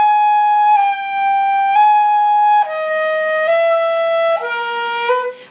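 A wind instrument plays a lyrical Andersen etude, the Romanza, in a slow stepwise line where each note gets a small push of air, breaking the slur into separate swells; solo and close, with no voices.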